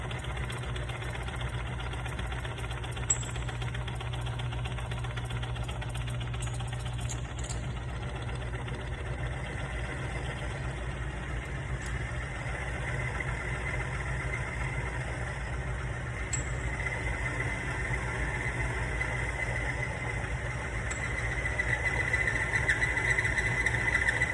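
An oil additive friction test machine runs with oil mixed 80% to 20% with Lucas additive, giving a steady mechanical hum and whir that holds level from start to finish, close by and unbroken.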